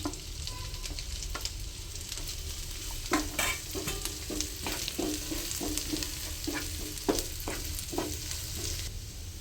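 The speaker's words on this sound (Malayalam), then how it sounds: "ഇനി ചെറിയ ഉള്ളി ഒന്ന് ഇട്ട് കൊടുക്കട്ടെ." Garlic, green chili and shallots fry in hot oil for chicken soup, a constant close sizzle broken by repeated stirring scrapes and taps of a spoon against the pan.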